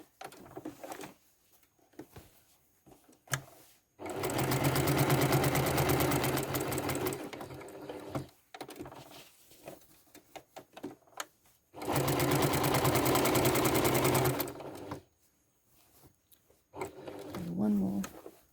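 A sewing machine stitches a quilt block for a shadow triangles quilt, running in two long steady bursts of several seconds each, close and loud, with quiet handling sounds and pauses between.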